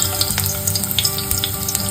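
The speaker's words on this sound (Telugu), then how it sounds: "ఉల్లిపాయలు వేస్తున్న దీంట్లో." Onions fry in hot oil in a kadai with a loud, dense crackling sizzle and rapid spattering pops, close and continuous, without speech.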